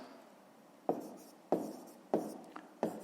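Pen writing on paper during a fifth-grade maths exercise, a series of short scratchy strokes in bursts of four or five, close and alone with no talk.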